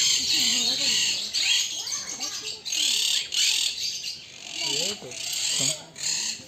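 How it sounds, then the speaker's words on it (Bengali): Harsh, repeated squawks and chirps from a caged flock of cockatiels at a zoo, close and fairly loud, with a busy chattering background and some voices mixed in. "আর এটা হচ্ছে ককটেল পাখি"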